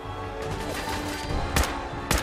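Two sharp gunshot bursts from the video game Fallout 4 ring out over a constant busy game soundscape, loud and close.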